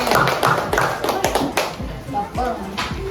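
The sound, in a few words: applause for a group of schoolchildren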